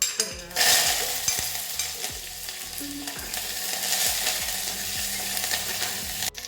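Green chillies and curry leaves frying in oil over low heat for a lemon pickle, a sharp burst of sizzle as they hit the oil, then steady crackling with periodic knocks of stirring, close and continuous, no talking.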